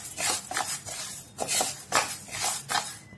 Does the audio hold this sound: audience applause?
no